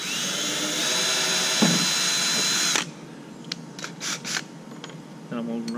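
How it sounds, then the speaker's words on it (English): A power drill with a 1/2 inch bit whines steadily through a metal kayak cart rod for a few seconds, then stops; afterward come short bursts of clatter and a brief renewed motor hum. "I'm going to run this 1/2 inch bit through it right after that."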